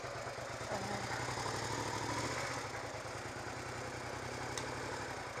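A motorcycle engine idles steadily at low volume while the bike is pushed over, a continuous even rumble throughout with no voices.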